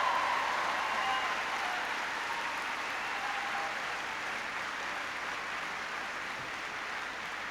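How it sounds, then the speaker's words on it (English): Sustained applause from a large audience for the Salem High School Band at a 1996 presidential rally in Manchester, New Hampshire, heard as a steady distant wash of clapping. "giving a warm round of applause to the Salem High School Band"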